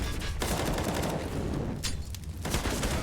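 Dense rifle fire in Counter-Strike: Global Offensive on the Vertigo map during a professional match, rapid continuous bursts with sharp cracks layered over a busy, loud game mix.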